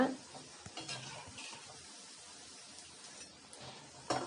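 Onion pakoda, with a little cornflour in the batter, sizzles steadily in hot oil while a utensil stirs it, scraping and clinking against the pan at intervals, with a louder clatter near the end.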